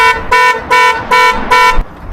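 A Jaguar XJ8 Sport (X308) car alarm sounds loudly and close by, giving five evenly spaced blaring honks in quick succession.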